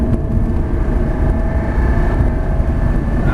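A Ferrari 360 Spider engine runs at full throttle, a steady, loud, rumbling roar with a thin high whine running through it, heard from inside the car.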